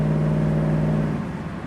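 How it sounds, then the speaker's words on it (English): A 1968 Chevrolet Camaro convertible accelerates on the road. Its engine gives a steady, close, loud drone with a low hum that eases slightly toward the end, and no one speaks. "Great response in the throttle."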